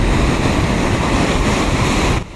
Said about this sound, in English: waves of between 6 and 8 feet are rolling in